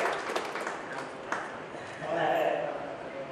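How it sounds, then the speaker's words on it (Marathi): Students at a social-welfare event clap for their classmates, a dense burst of applause under a speaker's voice that eases briefly and then continues with talking over it. "सर्वात अगोदर आहे आपण टाळ्या देऊया"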